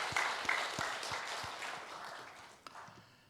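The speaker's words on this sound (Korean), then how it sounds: "우리 감사 박수 한번 하겠습니다" A church congregation claps in thanks after a special hymn sung by the elders at a Sunday Easter service, a brief burst of scattered applause that thins out and fades over a few seconds.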